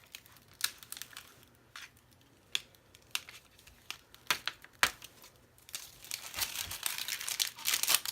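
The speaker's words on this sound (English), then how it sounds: "if you just get a corner started and then peel it away slowly" Cricut vinyl being slowly peeled from its backing, heard as close, intermittent crinkling and crackling snaps that grow denser and more continuous toward the end, with no talking.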